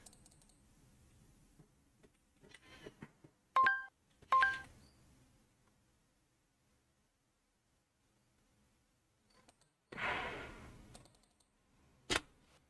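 Telephone keypad tones beep in the video game Deadly Premonition, two short dialing bursts followed after a pause by a louder clatter and a sharp click, with no talk.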